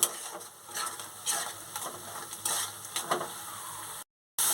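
Spice paste with salt stir-fried for a fish curry, a steady close sizzle with scraping stirs of a spatula, followed by a brief silence near the end.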